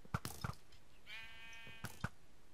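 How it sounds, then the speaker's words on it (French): A sheep in the Minecraft SheepWars mini-game gives a single wavering bleat, with sharp clicks and thuds of in-game action just before and after it, all fairly quiet. "Y a un mouton explosif."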